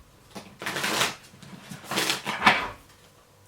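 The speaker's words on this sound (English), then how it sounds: "Let me give them another quick shuffle." Tarot cards are being shuffled by hand in three quick papery riffling bursts, close and fairly soft, with short pauses between them.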